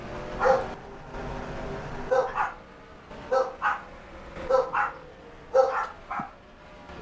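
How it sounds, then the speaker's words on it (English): Several indoor dogs bark repeatedly in short, spaced bursts at moderate distance over a low background hum. "I do apologize for the dogs."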